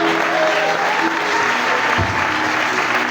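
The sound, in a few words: applause for a wedding procession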